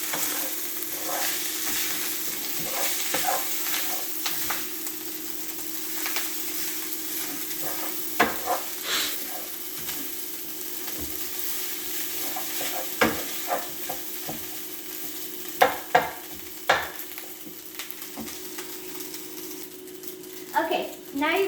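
Egg fried rice sizzles in a hot pan while being stirred, a constant bright frying hiss broken by repeated scraping and clacking strokes of the utensil, close and steady throughout.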